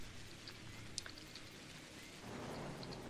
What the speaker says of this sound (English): No doubt you've also noticed that it's raining